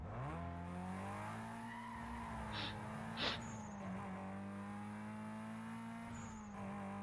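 Car racing in Need for Speed Most Wanted Black Edition: a steady engine drone runs throughout, with brief tire squeals and skids poking out around the middle and near the end.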